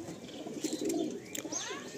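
Madrasi tournament pigeons coo in a loft, a low, rolling murmur of overlapping calls swelling through the middle and ending with a few brighter chirps, moderately loud and close.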